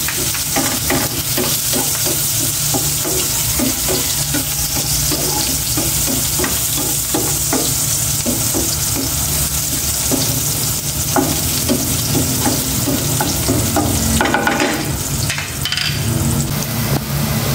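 Onions fry in a pan with a dense, continuous sizzle, and steady stirring and utensil scrapes tap through it, close and loud, with no voices.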